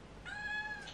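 A single cat gives one short, clear meow, close by and fairly quiet, with no other sounds around it.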